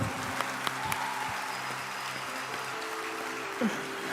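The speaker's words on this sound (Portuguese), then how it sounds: "Vamos aplaudir no nome de Jesus quem declarou, quem vibrou." A church congregation at an evening service applauds softly in a large room, a steady wash of distant clapping with a low hum and some tonal sounds beneath it.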